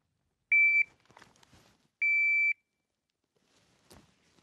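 A handgun shot timer gives two sharp electronic beeps about one and a half seconds apart during draw practice, with faint handling noise and a soft click between them and no talk.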